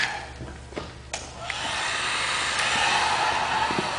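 Heat gun blowing a steady, close airy roar over window tint film on a car's back window, with a few light knocks early on before the rushing hiss settles and holds.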